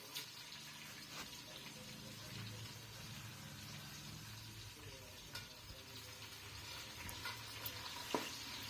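Spices and bay leaf being stirred in hot oil in a pan while making egg biryani, a soft continuous sizzle with scraping spoon strokes and a few sharper clinks near the end, fairly quiet.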